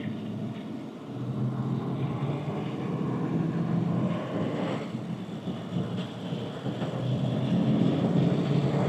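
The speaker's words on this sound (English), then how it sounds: "I'm on the gas pretty good. We're getting up, picking up speed pretty good." A 1962 Rolls-Royce Phantom V James Young limousine gathers speed on the road, heard from inside as a broad, swelling rumble of engine and road noise that grows louder toward the end, with no talking.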